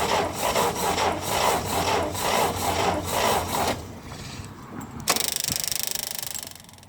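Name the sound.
fuel pump of a 1960s International Harvester Scout 80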